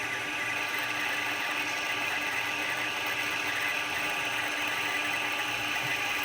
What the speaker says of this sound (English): it tells you that it's winding the bobbin thread